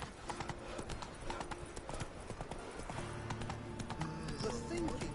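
Horse hooves clip-clop steadily in The Witcher video game, a close, rhythmic trot running throughout while someone speaks over it along with game music.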